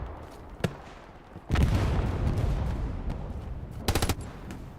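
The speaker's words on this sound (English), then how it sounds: "Cowboy setting up the MG." An MG-34 machine gun in the game Hell Let Loose fires loud sustained bursts, first a single crack, then a long rattling stream and a final quick burst, with booming battlefield noise around it.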